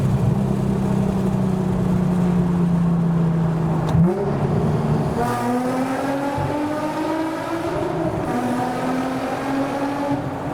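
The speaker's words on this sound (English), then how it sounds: "Oh look, we've come across a tunnel, I think. Windows down, gears down, and flooring it." Car engine flooring it through a tunnel with the windows down and gears dropped at a Goodwood track day: loud, steady drone that drops, then climbs in rising, harmonic-rich revs through successive gears, echoing close and continuous.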